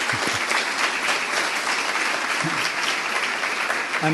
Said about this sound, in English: So we should actually give them a round of applause for that.